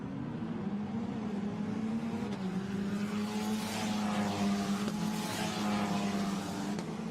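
Formula Renault race cars pass at Spa-Francorchamps on a semi-wet track, a steady high engine drone swelling slightly mid-way as the leaders go by at a moderate distance, with no talk.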